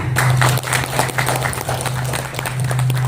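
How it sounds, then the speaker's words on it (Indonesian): A school audience at a work meeting of MI Al-Hamidiyah breaks into dense, continuous applause. The clapping is loud and unbroken over a steady low hum, with no talk. "Boleh tepuk tangan?"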